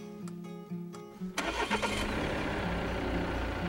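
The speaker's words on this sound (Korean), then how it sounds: "그냥 들리기에는 툴툴거리는 디젤 엔진 같죠?" A starter cranks briefly, then the 2018 Jaguar XF 20d AWD's Ingenium diesel engine catches and settles into a steady, rumbling idle close by.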